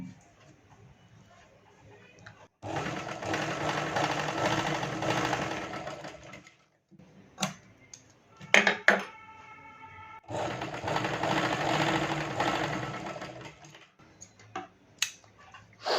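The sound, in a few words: sewing machine double-stitching a blouse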